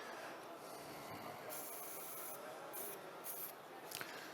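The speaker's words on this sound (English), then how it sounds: "A little spray with sanding sealer." Short hissing bursts of sanding sealer sprayed onto wood turning on a lathe, several quick spurts over a steady low machine hum.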